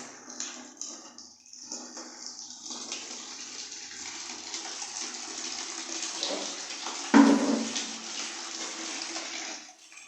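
Water poured out for birds, a steady continuous hissing splash, close and moderately loud, with a brief knock partway through.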